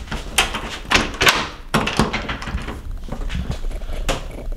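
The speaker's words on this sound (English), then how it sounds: "Oh, another door." A door opens or closes in a building during a Buffalo creator vlog, with several sharp knocks and thumps followed by a rattling, shuffling rumble at close range.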